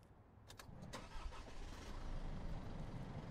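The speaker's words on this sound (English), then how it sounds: "Now start the engine." Car engine cranking and catching after the fuel system is primed and the water separator hose removed, starting with brief clicks and cranking bursts, then settling into a steady rising engine run, moderately loud with no voices.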